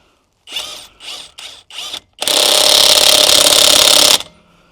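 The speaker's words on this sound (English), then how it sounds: "You can get those lug nuts off a lot easier, even if they're super tight." A SeeSii 1/2-inch cordless impact wrench works on car lug nuts: four short hammering bursts, then a loud sustained rattling run of about two seconds before it stops, close and alone.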